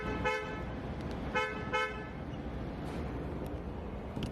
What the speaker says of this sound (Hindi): अब आपको यहाँ पे क्रेटा लाइक हॉर्न मिलेगा।